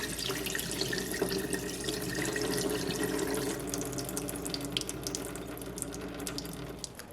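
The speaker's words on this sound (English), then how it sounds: "I'm going to very carefully pour off as much whey as I can" Liquid whey pours in a steady splashing stream off fresh cheese curds for an Italian Primo Sale cheese, a continuous watery trickle close by that thins toward the end.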